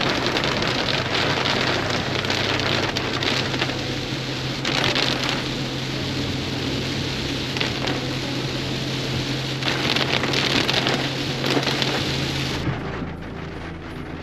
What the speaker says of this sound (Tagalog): Pinabutan na tayo ng malakas na ulan.